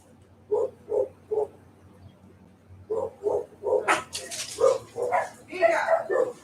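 Puppies bark in short repeated yips near the microphone, with a person calling to them in between.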